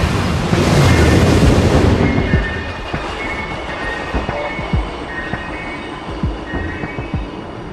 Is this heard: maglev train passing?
yes